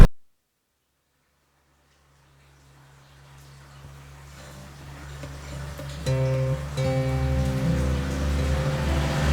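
Near silence gives way to rain hiss that grows steadily louder, with a low steady hum underneath.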